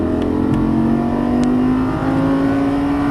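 Lamborghini Gallardo Superleggera LP570-4 engine under throttle on a Las Vegas track, a loud close steady drone with its pitch rising gradually as the car accelerates, heard alone without talk.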